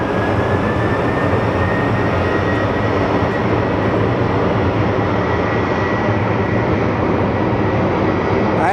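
A Boeing 737 MAX airliner landing at Phoenix Sky Harbor airport on a rainy day: a loud, sustained broadband jet roar that stays steady for the whole stretch, with no voices.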